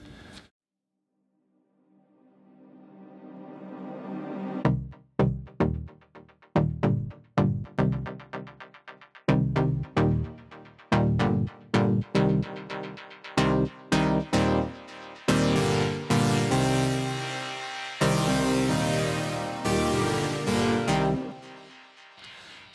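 Bright synth chords from a dance remix play alone with no other instruments, coming in after a slow swell as a run of sharp rhythmic stabs and gated bursts that grow denser and more sustained toward the end.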